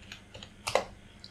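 Several soft keystrokes on a computer keyboard while entering project text, with a small cluster of clicks near the middle and quieter taps around it, close and faint, no talk.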